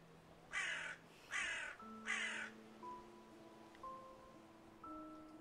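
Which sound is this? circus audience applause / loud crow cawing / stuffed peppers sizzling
loud crow cawing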